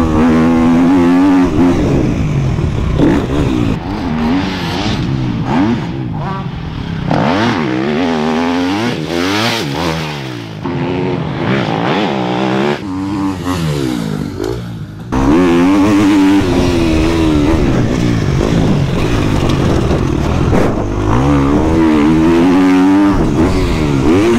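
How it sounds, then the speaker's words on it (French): A GasGas 250 MCF motorcycle screams around the Saint-Jean-d'Angély circuit, its engine revving hard and repeatedly climbing and dropping in pitch through gear changes, loud and close throughout with crackling on the overrun. "La moto, elle craque."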